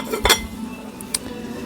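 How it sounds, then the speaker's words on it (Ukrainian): A ceramic plate handled on a shop shelf gives a couple of brief clinks and a light knock, tableware sounds rising over a steady low room hum. "Оце може дорожча тарілочка."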